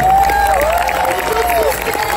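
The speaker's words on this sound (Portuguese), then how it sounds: "palmas ao Luís para todos" A live concert crowd in Lisbon cheers and applauds loudly and continuously. A tonal whistle or voice glides above the dense clapping, and talk can be heard faintly in the mix.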